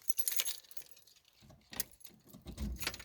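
Car keys jangle softly as they are turned in the ignition, a few faint metallic clinks and rattles close by with quiet gaps, no speech.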